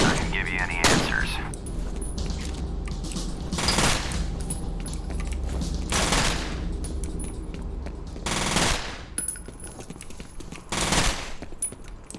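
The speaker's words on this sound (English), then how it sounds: "So if I turn around while shooting, you can understand that the sound is coming from the opposite direction, as I show you now." Rapid automatic gunfire in a first-person shooter game with positional 3D sound, sustained bursts with several louder sharp volleys, close and loud over a steady background rumble.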